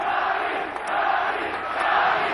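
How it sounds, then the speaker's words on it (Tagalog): An arena crowd at a Manny Pacquiao boxing match roars in a loud, sustained surge after a knockout, swelling in waves with shouts mixed in. "And listen to that crowd"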